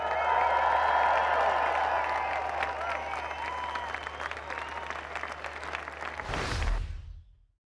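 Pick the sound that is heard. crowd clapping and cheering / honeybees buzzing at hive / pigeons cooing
crowd clapping and cheering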